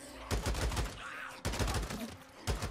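Rapid bursts of automatic gunfire in the Days Gone video game come in three quick volleys of crackling shots, moderately loud and close, with little else between them.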